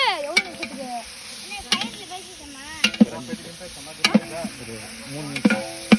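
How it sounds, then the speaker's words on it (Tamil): Butter chicken being stirred in a pan, with a soft sizzle and intermittent scrapes and knocks of the spoon. The sounds are close and irregular, with a faint high whine in the background. "ஒரு 3 நிமிஷத்துக்கு அப்படியே மிக்ஸ் பண்ணுங்க."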